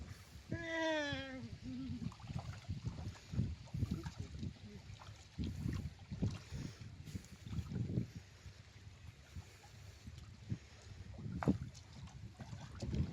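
A rowboat on the Ganges river, used for net fishing, moves through the water with irregular creaks, knocks and soft splashes under wind noise. A brief rising whistle-like call sounds near the start.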